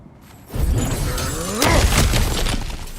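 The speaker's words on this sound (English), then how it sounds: "back to smashing through things for fun and profit" Breakable objects smashed apart in God of War Ragnarök: a loud, close shattering crash of splintering debris, followed by a second heavier smash with ringing, scattering fragments.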